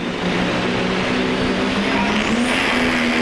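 A 2,000-horsepower pulling truck engine roars steadily at high load as the clutch is dumped at a truck pull, a dense continuous growl with a rising whine on top, loud and unbroken throughout.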